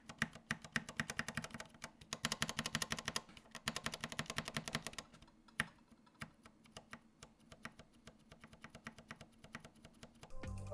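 Dense, rapid keystrokes clatter on a mechanical keyboard with heavy Halo Clear switches, close up, in uneven bursts that thin out midway before picking back up.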